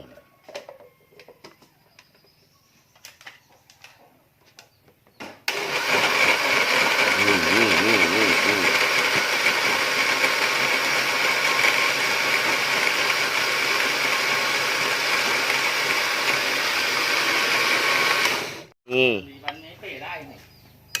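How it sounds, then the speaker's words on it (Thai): An electric blender grinds fish for a rustic Thai dish, a loud steady whirring roar starting abruptly after some quiet background voices and cutting off near the end, followed by brief clatter. "ปั่นปลา ปั่นปลาเด็ก"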